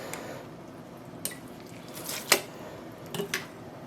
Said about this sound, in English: I have some water with a lot of vinegar here. And so I can make things wetter.